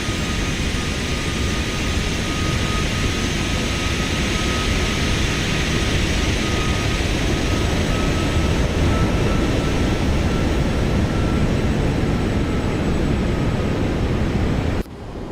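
A simulated Boeing 737-900 jet on final approach roars with a loud, steady engine drone and cabin rumble that holds constant, then cuts off abruptly at the end.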